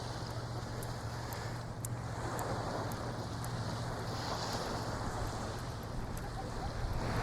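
Strong wind buffets the microphone on the Formentera coast, a constant loud roar with surf-like rushing underneath and no clear pauses.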